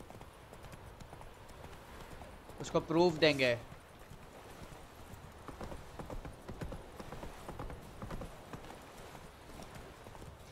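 Horse hooves clip-clop steadily in The Witcher 3 video game while a rider travels, with a louder burst of hoofbeats and a short whinny-like cry early on, and someone talks over the game sound.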